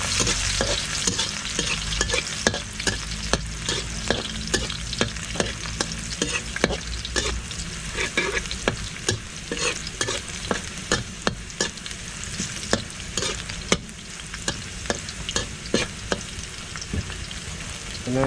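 Garlic frying in a pan while being stirred, with a steady loud sizzle and repeated sharp scrapes and clacks of a utensil against the pan throughout.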